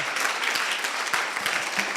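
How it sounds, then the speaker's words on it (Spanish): During a church service, the congregation breaks into applause, a full, even clatter of many hands clapping steadily at close-to-moderate distance with no voices over it. "Dale un aplauso al Señor."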